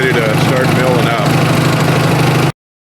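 Mighty Mite band saw mill engine running steadily at a constant idle-like drone, with Alaska yellow cedar set up for milling; the sound cuts off abruptly after about two and a half seconds.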